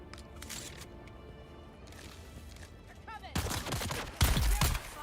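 Gunfire in the video game Dune Awakening, a run of sharp, moderately loud shots with heavier thuds near the end, heard under a low game ambience and some nearby talk.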